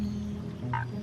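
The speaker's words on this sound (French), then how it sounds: "Il s'agit de la grenouille de Darwin." Darwin's frog calls once, a short tonal croak with bright harmonics near the end, heard close over a steady low background hum.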